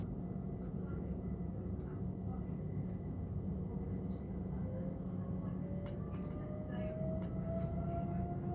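A low, continuous rumble of a Great Western Railway train departing Slough, heard from inside, with a rising electric whine building gradually and occasional faint clicks.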